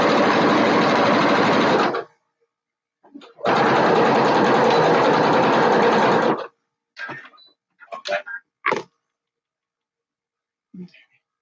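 A sewing machine stitches fabric in two long, steady whirring runs of about two and three seconds, then gives a few short clicks and bursts before falling silent.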